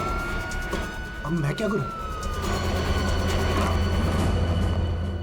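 A police car siren wails steadily in the background as the car arrives at a crime scene in a TV drama episode, with someone speaking anxiously over it.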